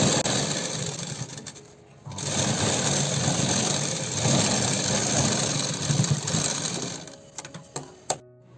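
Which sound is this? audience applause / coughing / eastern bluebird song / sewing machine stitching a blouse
sewing machine stitching a blouse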